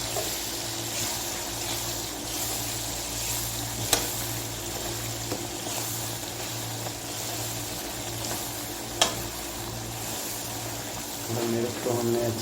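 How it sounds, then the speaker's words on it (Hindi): Red chili sizzles and fries in a pan, a soft continuous crackle with a couple of sharp clicks and some stirring near the end, fairly quiet and close. "मिर्च को हमने अच्छी तरह से भून लेना है।"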